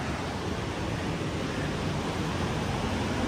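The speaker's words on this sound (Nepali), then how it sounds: "तल खोला" A mountain river rushes below a trekking trail on the Shey-Phoksundo route in Dolpa, Nepal, a constant broadband roar of churning water, loud and unbroken, with no voices.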